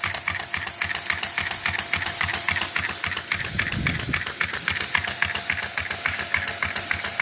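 A Lego engine built without external valves or linkage runs steadily, giving off a fast, even ticking and clatter that repeats without pause, close and alone, with a brief low rumble partway through.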